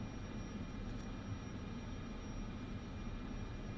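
Aircraft taxiing in Microsoft Flight Simulator 2024 on an air ambulance flight, giving a steady low engine rumble with a faint high whine, even and unbroken throughout.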